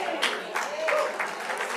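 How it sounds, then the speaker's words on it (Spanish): An audience claps on one side of a church during a women's meeting, a brief, moderately loud patter of hands with some voices mixed in. "Aplaudieron de este lado"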